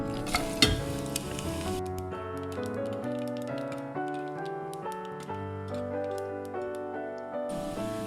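Whole fennel, cinnamon pieces, cumin, cardamom and cloves heat in a pan, giving a faint crackling sizzle with scattered small pops beneath louder melodic background music.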